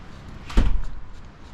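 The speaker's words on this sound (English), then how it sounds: "Hear the doors slamming, the wind whipping" In storm wind, a door slams once with a single close, heavy thud and a brief rattle, then fades back into low wind noise.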